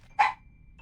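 A puppy gives a single short, sharp bark, close and clear, in an otherwise quiet indoor setting.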